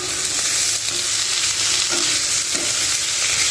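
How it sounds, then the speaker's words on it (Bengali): Boiled potatoes fry in a pan with oil after ginger and garlic, a loud, close, steady sizzle with stirring scrapes throughout and no talking. "এরপর আমি সেদ্ধ করা আলুটা দিয়ে দেবো, যাতে একটু আলুটা ভাজা ভাজা হয়।"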